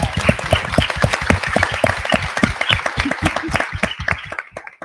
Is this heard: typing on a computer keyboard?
no